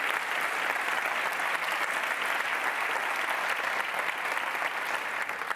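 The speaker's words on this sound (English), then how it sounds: "please, another round of applause for the alumni precisely in making this possible" Sustained audience applause for alumni at the Global Alumni Reunion 2021, a dense, even wash of many hands clapping at steady volume throughout.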